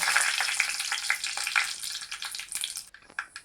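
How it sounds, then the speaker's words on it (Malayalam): Close, busy crackling and popping of mustard seeds and dried chillies sizzling in hot oil, dense spitting that thins out toward the end. "കടുക് പൊട്ടി ഇനി നമുക്ക് 2 വറ്റൽമുളക് മുറിച്ചിടാം."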